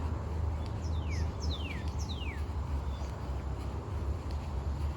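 Several descending bird whistles ring out in woods over steady wind and low road rumble, each call sliding downward, a few seconds apart, moderately distant.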